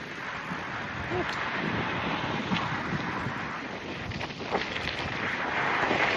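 Strong, steady headwind buffets the microphone while riding a mountain bike, a continuous rushing roar with no pauses.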